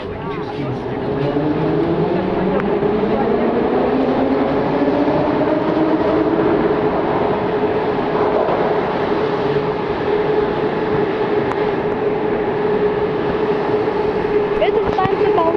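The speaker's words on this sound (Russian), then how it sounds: "Это поезд Балтиец, да?" A Baltiets metro train in the Saint Petersburg underground runs loud and steady for a long stretch, with rising and falling motor whine over constant rumble.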